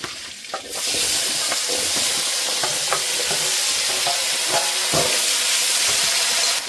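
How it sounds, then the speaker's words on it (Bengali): Potatoes fry in hot oil in a pan during a shrimp dish, giving a loud, steady close-up sizzle that starts abruptly and carries on throughout, with occasional scraping of stirring. "আলুগুলো ভেজে নেব।"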